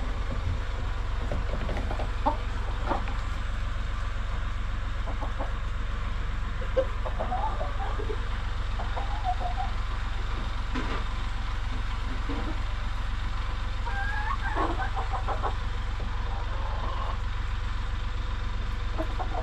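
Chickens in a snowy run give scattered soft clucks over about twenty seconds, heard faintly beneath a steady low idling engine hum from a nearby tractor.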